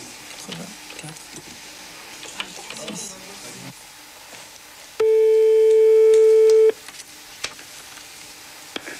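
A steady telephone dial tone sounds clearly for about two seconds after dialing out, over faint room noise and scattered clicks.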